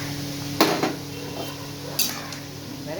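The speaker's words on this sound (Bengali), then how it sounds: "এইবারে এটার মধ্যে আমি চিংড়ি মাছটা দিয়ে দেবো" Prawns are dropped into a cooking pot of boiled potatoes, giving two sharp clanks of metal and a brief splashy rattle against a steady low kitchen hum, with no talk.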